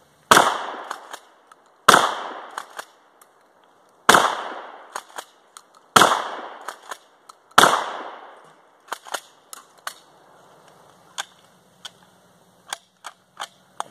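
Remington Model 870 shotgun fired five times at spaced intervals, each blast sharp and loud with a ringing decay, followed by scattered fainter clicks and clacks of handling with no talk.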